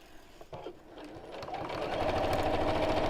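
A domestic sewing machine stitching close to the edge of fabric within the seam allowance, starting with a few soft clicks, then revving into a steady, close, rapid mechanical whir.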